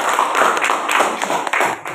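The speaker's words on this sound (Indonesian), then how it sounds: "Baik, boleh kembali tepuk tangan kita semua" A group of students clapping together in a classroom, a dense burst of applause that carries on steadily for a couple of seconds, close and loud.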